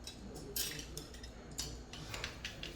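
Chopsticks tossing japchae glass noodles in a bowl, producing faint, quiet clicks and soft taps in an irregular rhythm close by, with no talking.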